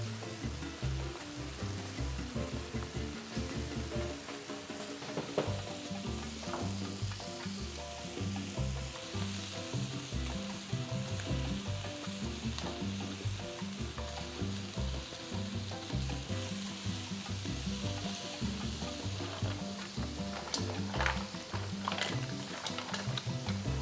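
Shrimp pan-frying in a hot pan for a seafood Alavar dish, a steady dense sizzle with crackling oil pops and occasional stirring scrapes, loud and close throughout with no talking.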